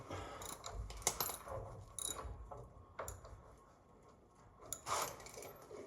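A ratchet wrench loosens bolts on a 1934 Ford Fordor with a flathead V8, giving irregular mechanical clicking and clanking in a garage, close and moderately loud with no talking.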